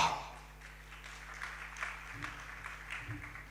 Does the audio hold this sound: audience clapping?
yes